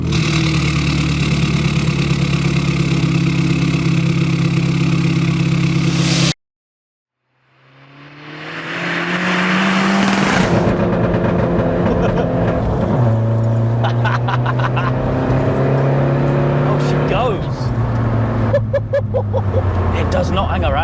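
A 400 bhp hybrid-turbo Mk1 Skoda Fabia VRS idles loudly, cuts to near silence, then cranks and fires back up, its engine settling and then revving through rising gear pulls as the car drives off.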